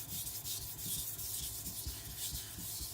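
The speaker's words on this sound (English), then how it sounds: "Just a few drops is all I need to keep sharpening." A Japanese gyuto kitchen knife is sharpened on a whetstone coated in dark slurry, and the blade is rocked to form a convex clamshell edge. Steady, close wet rubbing and scraping strokes repeat rhythmically throughout, with no talking.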